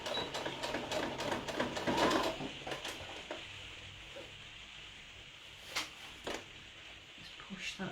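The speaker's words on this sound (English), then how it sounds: "sew all the way down to the bottom and back tack at the end" A sewing machine stitches down a cardboard playing card holder, sewing to the bottom and back-tacking at the end; busy rapid mechanical stitching dominates the first few seconds, then quieter handling and a few sharp clicks follow.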